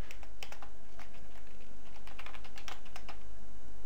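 Fingers type steadily on a computer keyboard, a close run of light, uneven clicks over a low background hum.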